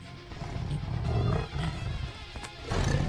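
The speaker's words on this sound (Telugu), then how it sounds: "పులి నీ వెనక" A tiger roars in a series of deep, rumbling growls that swell and fade over a few seconds. The roaring sounds fairly close, with no speech over it.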